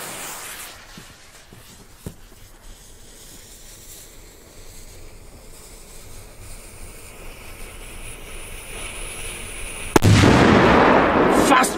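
A Polish Viper 12 firecracker goes off on New Year's Eve: a low rumbling crackle builds, then a single sharp, loud blast near the end, followed by a sustained broadband roar.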